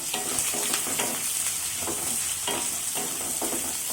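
Onions fry with popping mustard seeds in hot oil for a bitter gourd poriyal, a dense steady crackling sizzle with soft scraping stirs, close and without any talking.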